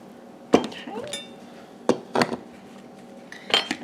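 A knife pushed into a glass canning jar of ham and white bean soup, giving several sharp clinks and scrapes of metal on glass, spaced out across a few seconds, close and fairly crisp.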